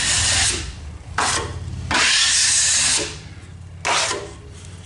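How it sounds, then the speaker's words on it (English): A big drywall knife spreads topping mud over a garage wall in a remodel, making a loud, close, rasping scrape in four long strokes with short pauses between them. "cover the whole thing with drywall mud, with topping. Then I'm going to come back with my big knife"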